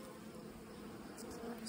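Honeybees buzzing in an open hive during a brood frame inspection, a steady close hum of many insects continuing without pause.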